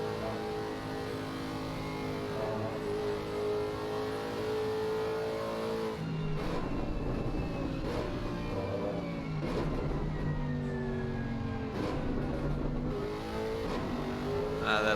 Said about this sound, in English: That Lexus sounds absolutely beautiful.